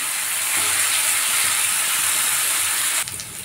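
Mixed vegetables with green chillies fry in a pan with a bright, steady sizzle and hiss. The sizzle drops sharply near the end as the cooking noise settles, and no voices are heard.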